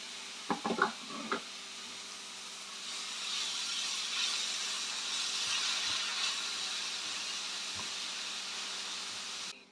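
Chopped onion sweating down in a pan, a steady soft hiss of sizzling that holds throughout, preceded by a few brief clatters at the start.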